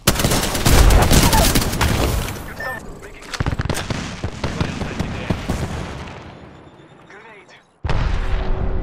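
Enemy gunfire in the console shooter game Apex Legends comes as dense, loud bursts of shots with heavy booms. A voice talks over it, the firing thins out and stops briefly, then starts again.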